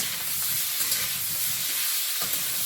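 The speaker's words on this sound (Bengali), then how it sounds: "এদিকে আলুটা প্রথমে একটু ভাজবো" Potatoes frying in a pan, a steady, even sizzle with no voices over it.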